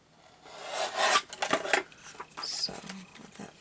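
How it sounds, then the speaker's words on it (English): A small paper trimmer slides and rasps through paper in a few quick scraping strokes, close by and fairly faint. "get my little trimmer out, because my big trimmer is covered"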